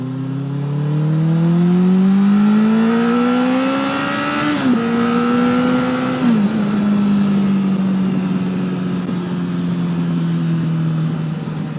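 A Honda CBR1000RR sport motorcycle rides on a weekend road, its engine pitch climbing steadily under throttle, dipping briefly at a gear change, then droning on at a steady high rev, loud and continuous.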